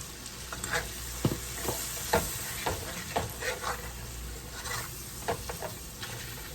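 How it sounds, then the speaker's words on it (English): Chopped onions and flour sizzle together in a pan for liver and onions with gravy, a steady frying hiss broken by repeated scraping taps as the mixture is stirred, close and fairly quiet, with no talking. "And we're just going to let these onions and flour cook together."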